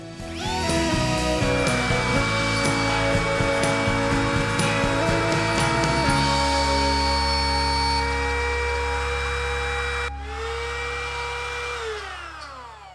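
A power saw or router whines loudly while cutting a keyhole slot in wood, a continuous high tool drone that shifts pitch as the bit loads and eases, then spins down briefly near the end.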